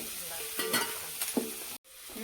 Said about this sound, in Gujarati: તૈયાર કરેલું બટાકાનું શાક નાખી દેવાનું છે. સારી રીતે મિક્સ કરી લેવાનું છે જોરદાર